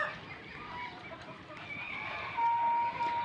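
Rhode Island chickens and roosters cluck and call steadily, with a brief sharper call rising near the end, all against outdoor farmyard ambience with no talking.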